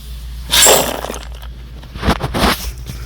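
Gravel dumped into a trench around a water hydrant repair, two loud rattling, crunching pours of stones, the first short and sharp, the second longer and scattered.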